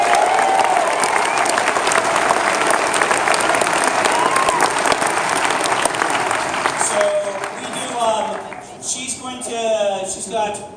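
Audience applause fills a room at a book event honoring the author's sister, who runs his charity foundation; steady loud clapping from a crowd that thins out and fades near the end as a voice begins.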